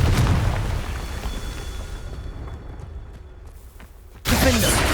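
Confringo spell blast in Hogwarts Legacy, a loud burst at the start that decays into a rumbling tail, then another sharp blast near the end.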